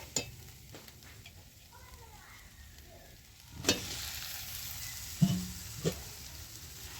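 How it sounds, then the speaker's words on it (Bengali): Fried potatoes and pointed gourd are sautéed in spice paste in a pan, with a soft low sizzle running throughout and sharp scraping and clinking strokes of a spatula against the pan, several louder ones near the end. "এটা দিয়ে মিনিট 5-এর মতো আমি কষিয়ে নেব"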